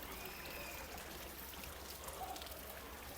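Scalding hot spring water pours steadily out of a bathing spot's outlet at Jogini falls, Manali, a continuous nearby splashing stream at moderate volume.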